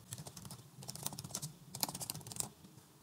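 Close typing on a computer keyboard while entering contract text, with irregular quick bursts of clicky keystrokes and short pauses between them, alone and fairly quiet.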